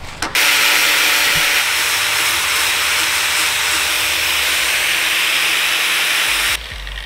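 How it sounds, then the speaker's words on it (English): A grinder strips thick powder coat from a throttle part off a 34-year-old Yamaha Banshee, a loud, steady broadband hiss and whine that holds continuously for several seconds before cutting off near the end. "put them on a grinder, and they go to town on some powder coat"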